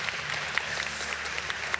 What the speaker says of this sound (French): Non, en fait, ils peuvent applaudir déjà les 5 intervenants,